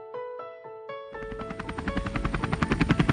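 A passenger helicopter follows a few bright tonal notes, its rotor chopping in quick rhythmic thuds that steadily grow louder and closer.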